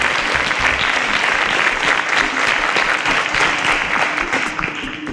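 Sustained studio-audience applause on a quiz show after contestants answer correctly, loud and full, continuing steadily before tapering off at the end.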